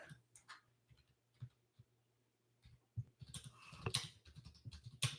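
Fingers tap quietly on a computer keyboard in short, irregular bursts of clicks, growing busier and louder near the end.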